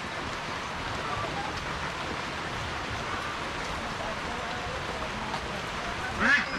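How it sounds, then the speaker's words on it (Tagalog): Rain falls outdoors as a soft, continuous patter and hiss at moderate level, steady throughout, with a brief louder knock near the end. "May ulan."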